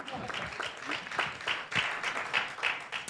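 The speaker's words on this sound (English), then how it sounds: "Give her another round of applause." Audience applause at a City of Carson council meeting, a modest burst of clapping with uneven pulses, heard fairly close and mixed with some voices.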